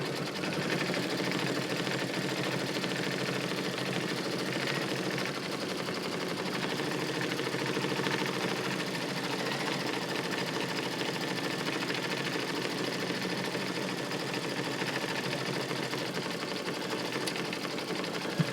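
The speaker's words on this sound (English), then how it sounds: "I'll pause it for you so you don't have to watch all these words stitch" An embroidery sewing machine stitches lettering in the hoop, its rapid steady needle chatter running continuously and evenly at close range with no pauses or voices.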